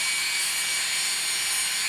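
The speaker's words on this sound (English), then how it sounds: "Now I am going to drill in here so I can cut it out." A small drill bores into a metal jewelry bezel, cutting out its inside to open the back; a steady, high-pitched whir with a bright, hissing edge runs close and continuous, with no talk.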